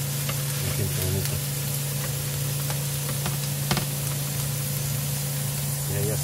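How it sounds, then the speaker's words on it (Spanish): Onions fry on a taco griddle at a Toluca street stall cooking pastor and asada tacos, giving a steady, close sizzle throughout with a constant low hum and occasional clinks. "Ya se está friendo la cebollita ahí también, ya se está friendo ahí"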